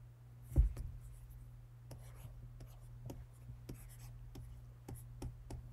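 A stylus scratches across a Kindle Scribe Colorsoft screen in short, quiet, close strokes with small taps, a faint low hum beneath, and a soft voice speaking lightly in places.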